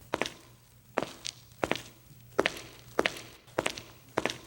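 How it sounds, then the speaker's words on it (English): A soloed footsteps sound-effect track edited in Final Cut Pro X gives seven distinct, evenly spaced steps, each a close, crisp thud with a short scuff, heard alone against quiet background. "let's hear just the footsteps"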